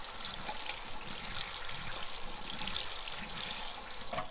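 A kitchen tap runs steadily over rehydrated dried green beans being rinsed for a Depression-era dish, a continuous hissing, splashing flow of water at moderate volume, close and with no speech.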